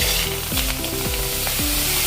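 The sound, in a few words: tomatoes added to a hot kadhai, sizzling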